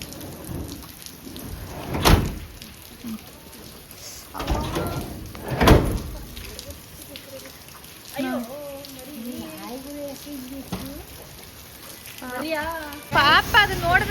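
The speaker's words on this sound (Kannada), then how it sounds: "ಮಳೆ, ಜೋರು ಮಳೆ" Heavy rain pours steadily at a temple, broken by a few loud bangs like doors, with people talking and a voice rising over the downpour.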